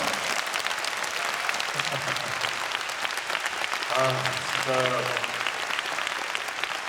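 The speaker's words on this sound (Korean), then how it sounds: "큰 박수 다시 한 번 부탁드리겠습니다." A concert crowd gives sustained applause, a steady wash of clapping that fills the whole stretch, with a brief spoken voice rising above it partway through.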